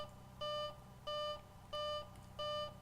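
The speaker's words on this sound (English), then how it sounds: "The gear buzzer just does not shut up" Landing gear warning buzzer in the X-Plane 11 flight simulator: four evenly spaced, steady electronic beeps of equal length, clear and prominent with no talking.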